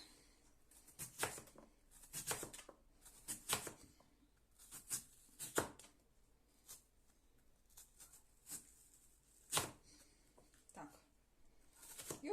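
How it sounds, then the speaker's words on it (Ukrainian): Quiet, irregular series of crisp chopping clicks as a knife cuts through potatoes on a board, with brief pauses between cuts. "так фігурно ми ріжемо всю картоплю"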